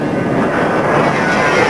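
Jet aircraft accelerating down the runway on takeoff with its landing gear retracting, a loud continuous engine roar that holds steady throughout with no voices.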